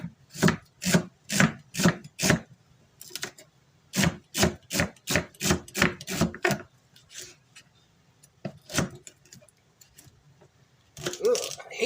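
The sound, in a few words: chopping celery stalks with a knife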